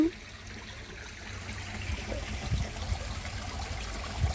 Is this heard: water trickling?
yes